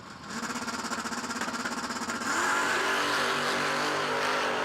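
Drag race cars, a Starfire and a 1966 Chevelle wagon, idle with a loping, pulsing rumble that swells into a loud, sustained engine roar at a strip event, no talk.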